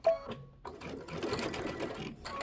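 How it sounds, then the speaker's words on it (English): A domestic sewing machine runs a short back stitch while finishing a quilted table topper, a brief whir that starts, stops, then hums steadily at close range. "I'll do a little back stitch."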